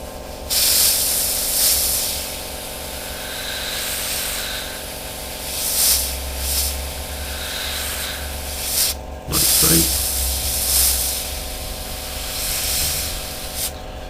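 Airbrush hissing out thin paint at low airflow while freehand-painting a Revell 1/72 Lancaster model, in repeated soft spray bursts with brief pauses and a light click, under a faint background hum.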